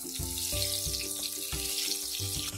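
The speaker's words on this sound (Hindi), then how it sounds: "अच्छा सा क्रिस्पी होने तक हम हरी मिर्च को फ्राई कर लेंगे, और इसके साथ ही डाल देंगे हम इसमें करी पत्ता" Green chillies and curry leaves fry in hot oil, giving a close, loud, continuous sizzle with bursts of crackling spatter all the way through. No voices are heard.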